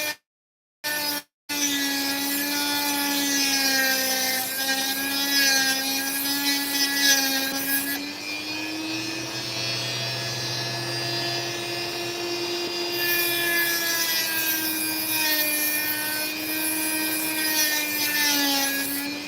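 Opal being cut close to a soft sand blockage, with a steady, close tool whine holding strong harmonic tones that shift slightly in pitch throughout, after a couple of brief clicks at the start; no talking.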